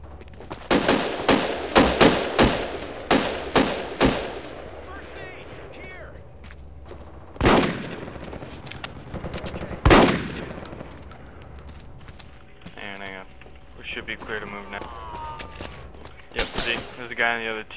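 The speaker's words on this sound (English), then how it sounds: "We're getting shot at right here from somewhere." Gunfire in the Battlefield 2 Project Reality mod: a quick run of loud, sharp rifle shots at the start, then isolated heavy reports spaced several seconds apart, with quieter voices and radio-like chatter in the gaps.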